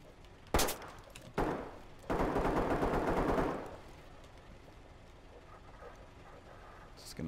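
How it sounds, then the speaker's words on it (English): Gunfire in the tactical shooter Ready Or Not: two sharp single shots, then a dense burst of automatic fire lasting over a second that fades out, with a faint shot at the very end. "And we are getting shot at."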